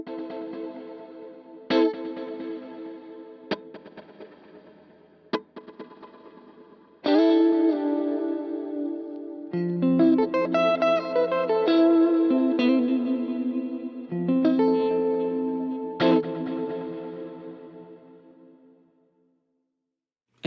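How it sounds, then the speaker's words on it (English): Synth-like tones run through a Plex delay effect set to long delay with diffusion reverb, repeating phrases that smear into a smooth wash and trail off into a fading tail, with no voices present. "As you can hear, there is more difference between the delay and the so-called reverb, the diffusion."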